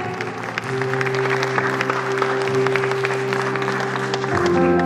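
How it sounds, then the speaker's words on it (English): Parents clap continuously at a school prize distribution ceremony, a sustained wash of many hands over a steady background hum, with faint voices mixed in. "Please keep clapping, parents."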